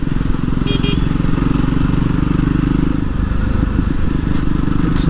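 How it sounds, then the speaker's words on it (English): Jawa Perak BS6 motorcycle exhaust rumbling steadily up close, a continuous low throb held for several seconds with faint clatter on top. "It's definitely a sweet sounding motorcycle."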